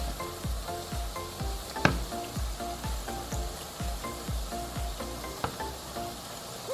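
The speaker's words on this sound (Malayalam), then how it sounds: "കണ്ടോ, നമ്മൾ ആ കനം കുറച്ചെടുത്തത് കൊണ്ട് കറക്റ്റായിട്ട് അത് ആ എണ്ണയ്ക്കകത്ത് മൂത്ത് കഴിഞ്ഞപ്പോൾ നല്ലതുപോലെ പൊങ്ങി വരുന്നുണ്ട്" Chocolate donut dough deep-fries in plenty of oil in a deep pan, giving a steady close sizzle dotted with regular popping crackles and no talk.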